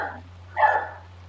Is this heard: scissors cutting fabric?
no